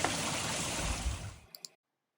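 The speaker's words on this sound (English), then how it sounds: "here we have the magical sound of water just bubbling in the background with these beautiful scallop shell waterfalls" Water bubbles and splashes down scallop shell waterfalls in an English garden, a steady close hiss of falling water lasting about a second and a half before cutting off, followed by two faint clicks.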